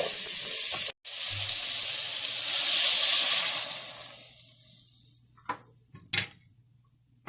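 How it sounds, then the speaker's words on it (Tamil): Water poured into a pan of frying vegetables for sambar bursts into a loud, hissing sizzle that slowly fades to a quiet simmer, with a few utensil clinks near the end. "காய் வேகிறதுக்கு ஒரு 1/4 கப்பு தண்ணி ஊற்றிக்கலாம்."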